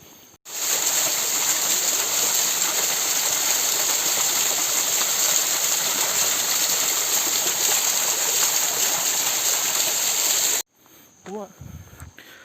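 Small waterfalls in the forest near Batu Blek Waterfall produce a steady, loud hiss of rushing water that lasts about ten seconds before stopping abruptly.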